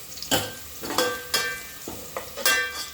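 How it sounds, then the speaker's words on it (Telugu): Onions fry in a pan for chicken pulao, making a steady close sizzle broken by rhythmic stirring scrapes about every half second, with no talk. "ఉల్లిపాయలు ఇట్లా ఫ్రై అయితే చాలా బాగుంటుందండి"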